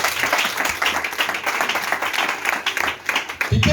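Church congregation clapping and applauding, steady dense rhythmic claps from a sizeable crowd filling the room without pause.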